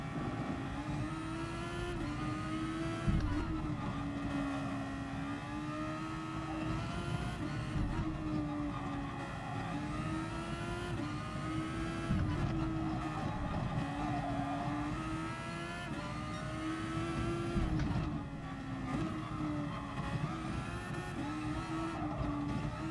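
A race car engine in the video game Gran Turismo Sport drones steadily, its pitch rising and falling through gear changes and corners, loud and continuous with no talking.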